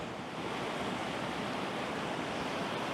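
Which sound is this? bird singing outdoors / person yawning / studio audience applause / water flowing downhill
water flowing downhill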